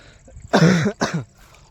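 A man gives two harsh, close coughs, a longer chesty burst followed by a shorter one, against near silence.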